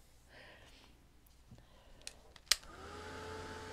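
A hair dryer drying light buttermilk paint over asphaltum on a stencil clicks on after a quiet stretch and settles into a steady, fairly soft whirring blow that runs to the end.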